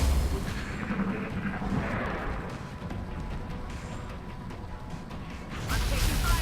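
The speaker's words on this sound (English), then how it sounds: "I'm taking fire." Gunfire and booming blasts in XCOM: Long War during a turn-based squad battle, loud heavy shots and rumbling impacts clustered at the start and end with a churning noisy battle bed between.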